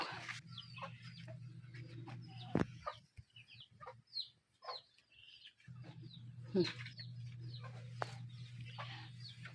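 Chickens cluck and squawk in short bursts over a steady low hum, with a few sharp calls standing out; fairly quiet overall.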